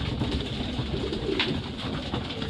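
Racing pigeons cooing at a loft during a fun race, soft repeated coos over a constant bed of ambient outdoor noise, no voices.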